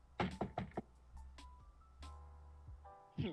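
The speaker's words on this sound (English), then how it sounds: "You just hear knocking." Knocking in a hallway during a tabletop role-playing game: four quick, close raps at the start, then scattered softer thuds and a few ringing tones.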